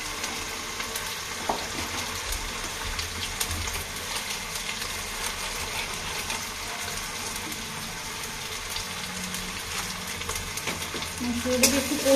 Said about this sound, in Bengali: মশলাটাকে একটু কষিয়ে নেবো।